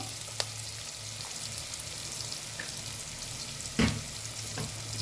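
Curry leaves and ginger garlic paste fry in a pan with a low, steady sizzle, broken by a couple of brief clinks and a short scraping stir, no voices present.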